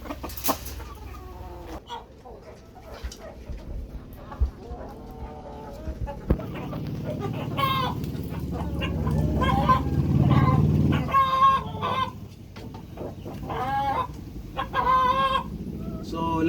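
Backyard chickens clucking and a rooster crowing, several birds calling over each other in a farmyard, with soft background noise between calls.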